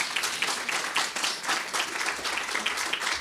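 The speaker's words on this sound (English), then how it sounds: "we got to have a round of applause for that just in itself" A crowd applauding steadily at a school board meeting, dense clapping that holds at an even level throughout with no voices over it.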